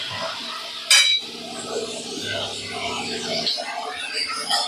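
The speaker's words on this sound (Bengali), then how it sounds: "দিয়ে নাড়াচাড়া করে ভালো করে ভেজে নেব।" Chopped tomato, potato and green beans being stirred together in a pan. A spoon gives scraping clinks against the cookware, with one loud clatter near the start, under a voice talking over most of it.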